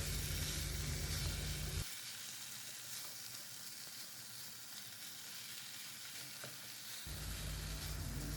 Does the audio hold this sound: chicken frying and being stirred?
yes